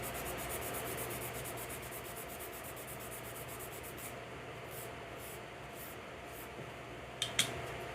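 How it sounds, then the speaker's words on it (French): Steady soft rubbing as an alcohol pad is wiped over a fingernail during chrome stamping nail art, a continuous close scratchy friction with a couple of small taps near the end. "Tampon alcool, on frotte."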